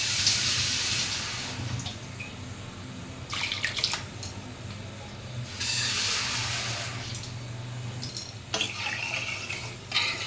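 Water is poured into a simmering Bengali fish curry with papaya, hissy splashing bursts in several separate pours over a low steady hum, close by, with no talk.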